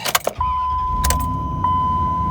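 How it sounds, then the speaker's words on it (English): A 2004 Dodge Ram 1500 pickup's 4.7 L Magnum engine cranks briefly and catches after a fuel pump replacement, then settles into a steady low idle with a faint whine, after a few metallic jangles at the start. "car seems to be starting up just fine."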